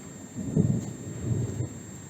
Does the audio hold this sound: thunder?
yes